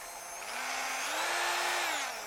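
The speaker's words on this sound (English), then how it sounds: "my plan is to use my little Proxxon, whatever it is, IBSE," A small Proxxon rotary tool fitted with a diamond grinder whines steadily against a lathe shaft, its pitch rising slightly as it loads up, continuous and fairly quiet over about two seconds with no talking.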